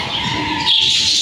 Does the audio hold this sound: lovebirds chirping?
yes